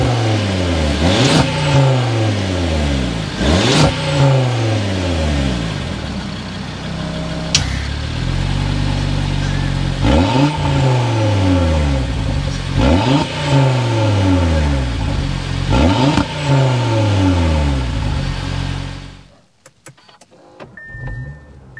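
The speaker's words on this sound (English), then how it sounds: "so you can hear that exhaust note" A 2024 Audi RS3 sedan's exhaust revs repeatedly, each rising roar falling back in a regular pattern, loud and close, then drops to near silence with faint clicks.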